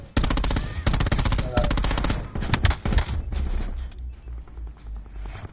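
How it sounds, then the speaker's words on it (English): Rapid automatic gunfire from a PS4 shooter game blasts in dense, loud bursts for about three seconds, then single cracks and fading game effects, with brief talk over it. "Oh, he's shooting me!"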